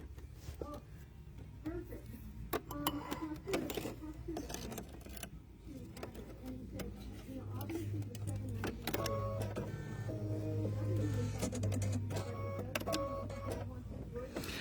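An embroidery machine stitches a satin border in brown thread around a rolling pin appliqué, a rapid mechanical whirring hum with clicks and brief pauses, steady and moderately close under quiet background talk.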